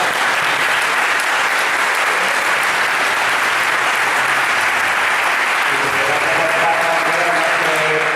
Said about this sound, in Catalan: jo demanaré un aplaudiment per a Imma, excel·lent presentadora.